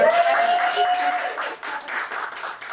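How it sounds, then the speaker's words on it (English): Following a literary reading, a small audience claps warmly for a few seconds, the applause mixed with brief whoops and voices. "Another round of applause."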